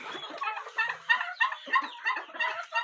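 Several turkeys, moved into a house yard, gobble near the listener in a rapid series of rattling bursts that overlap in an uneven rhythm.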